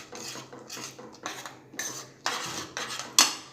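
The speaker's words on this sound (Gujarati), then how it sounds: "હવે આમાં 1 કપ સોજી લીધી છે, એ આપણે એડ કરી દઈશું ને મિક્સ કરી લઈશું" Semolina being stirred into cooked potatoes in a pan over low heat, a quick series of scraping, rasping spoon strokes against the metal with brief gaps, ending in a sharp clink, no voices.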